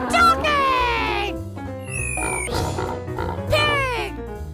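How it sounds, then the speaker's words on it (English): Cartoon pig oinking in a children's animal-sounds lesson: squealing grunts at the start and end with a bright chime in between, over light background music. "Pig!"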